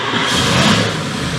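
A Gen1 400 cubic-inch small block Chevy runs on an engine dyno with a loud, dense rumbling roar, heard close up in one brief continuous burst.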